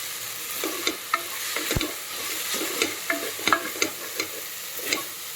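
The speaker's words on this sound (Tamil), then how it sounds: "பாருங்கள், இப்போ கல்லுப்பு சேர்த்ததால் தக்காளி கொஞ்சம் சீக்கிரமாக வதங்கிட்டு வருது." Tomatoes with rock salt sautéing in a pan for mushroom biryani, a steady soft sizzle broken by scraping spoon strokes and occasional sharp clicks against the pan, close and with no voices.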